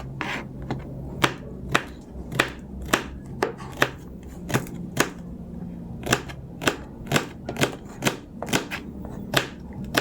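Celery chopped with a knife on a board in a steady series of crisp, sharp knocks, close and distinct over faint background hum.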